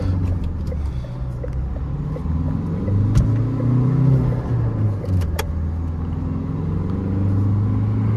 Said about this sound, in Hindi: साउंड बहुत प्यारा है इस गाड़ी का।